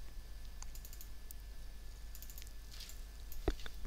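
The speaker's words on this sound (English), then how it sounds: "Grab the tool, Ctrl click, Ctrl X to cut, Ctrl V to paste in that other layer" Scattered computer keyboard presses and mouse clicks while working in modo 3D software, light and close, with a louder click near the end over a low steady hum.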